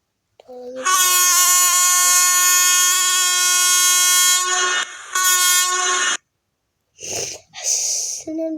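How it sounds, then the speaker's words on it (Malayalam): A loud train horn in a video game blasts for several seconds as the train approaches a crossing, then stops. After a pause, shorter bursts of sound follow. "അവിടെ ഒരു ട്രെയിൻ വരുന്നുണ്ട്"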